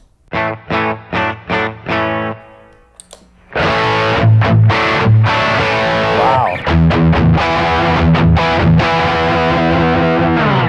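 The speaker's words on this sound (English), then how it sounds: "That's like almost like a distortion." An electric guitar plays through a Fuel Injector overdrive pedal in natural mode with heavy distortion: a few short chugged chords, then sustained, gritty, loud ringing chords up close.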